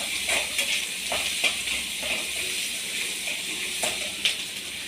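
Garlic and ginger sauté in hot oil in a pan, a steady close sizzle with soft stirring scrapes and small crackles scattered through it, no voices.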